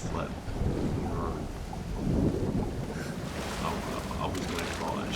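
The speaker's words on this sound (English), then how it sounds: "And now the storm is in, so I need to be careful." Thunderstorm with heavy rain in the survival game Stranded Deep, a steady roar of rainfall and wind with rolling rumbles of thunder throughout, loud and continuous with no talking.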